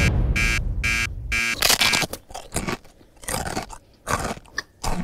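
A date stuffed with crunchy peanut butter is chewed up close, giving irregular bursts of wet crunching and mouth noise; an electronic beeping pattern sounds at the start.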